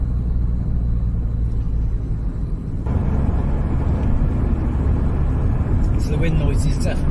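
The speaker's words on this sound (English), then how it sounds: "So the wind noise is definitely quite annoying from that window" Wind roars and buffets through the window of a rusty Citroen BX on the move, a steady broadband rush over low road rumble that grows louder partway through, with a voice talking over it.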